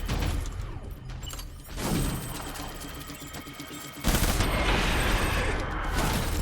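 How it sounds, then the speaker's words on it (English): Gunfire and a grenade blast in the video game Death Stranding, with a swell of explosive noise, bursts of rapid shots, then a sudden loud crashing explosion that holds through to the end. "It was a fucking grenade!"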